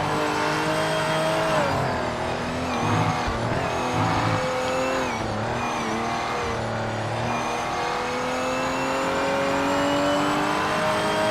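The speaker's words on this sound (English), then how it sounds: "It's a pleasant drive once you can keep the car on the track." A race car in the Project Motor Racing video game drives continuously, its engine droning and shifting pitch through revs and gear changes with occasional tire squeal, loud and steady throughout.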